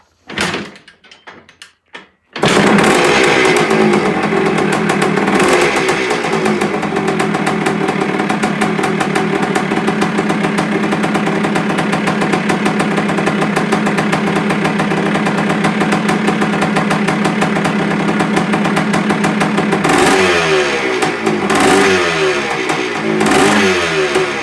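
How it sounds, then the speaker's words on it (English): A 1980 Kawasaki KX250 two-stroke motorcycle engine catches after a few kicks and runs loud and close, holding a raspy high idle with blips and rising revs toward the end. "We'll get it fired up and then we'll run it up and down the road."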